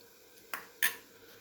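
A spoon clinks twice against a pan while paneer masala, turmeric and salt are mixed in it, two short bright metallic taps close by in an otherwise quiet space.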